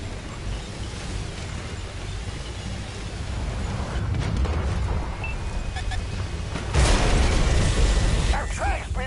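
A tank's track takes a shell hit in World of Tanks: a steady rumbling engine bed swells into a heavier, louder burst of impact noise near the end.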